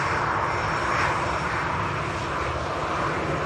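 Airliner arriving at Manchester Airport, its engines a steady, loud broadband roar that fills the whole stretch without a break, heard from a plane-spotting position with no talk.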